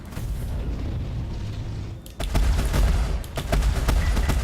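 Spaceship weapons firing and striking a target in the space game Star Citizen, a muffled hum broken by a burst of booming impacts and crackling rapid shots.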